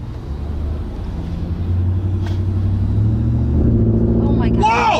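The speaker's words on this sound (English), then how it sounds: "We can still brake torque it, right?" Ram TRX truck engine brake torquing inside the cab: a deep low rumble swelling as the revs climb, with talk over the engine.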